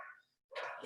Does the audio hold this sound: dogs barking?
yes